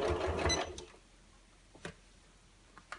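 Sewing machine sewing fabric for a ScanNCut dust cover, a brief burst of rapid close stitching followed by quiet with a few soft clicks as the fabric is pivoted.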